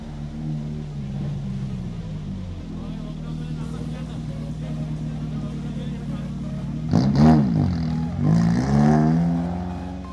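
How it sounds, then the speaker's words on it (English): Race car at the SLT Mobitel Southern Eliakanda Hill Climb 2021, engine droning steadily under a commentator's voice, then rising in sharp revving bursts as it accelerates. "Third car lined up for the day at the SLT Mobitel Southern Eliakanda Hill Climb 2021"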